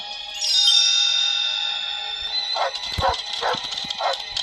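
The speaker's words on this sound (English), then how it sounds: "When Tramp heard Lady barking" A high whining tone fades into a series of sharp, quick yips and barks from a small cocker spaniel, fairly close and clear.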